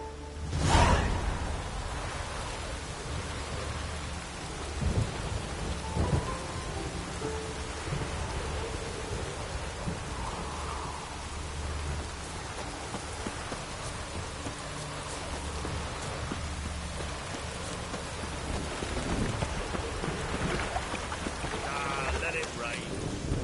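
Steady rain falls with rumbles of thunder in The Witcher 3 video game, a dense continuous patter that stays constant, with a sharper crack near the start and faint low rumbling underneath.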